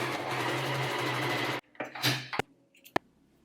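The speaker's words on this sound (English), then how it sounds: "Top stitch it, leaving a little bit of allowance on the side." Sewing machine top stitching fabric with a contrasting green thread, a steady close whirring run that stops abruptly, followed by a few sharp clicks and handling knocks.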